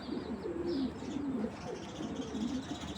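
Soft, repeated cooing of Giribaz pigeons in low rolling phrases, with faint higher bird chirps in the background and a steady ambient hum.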